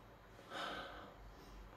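A single soft, quiet sniff of perfume scent on a journal page: a brief breathy inhale through the nose, close up and alone, with no talking.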